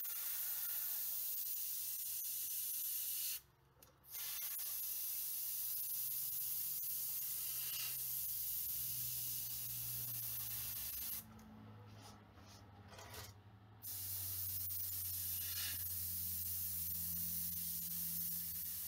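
An airbrush sprays paint onto an AMT 1/537 Enterprise 1701-A model kit, a loud steady hiss close by over a low hum, broken by a few brief pauses where the spray stops.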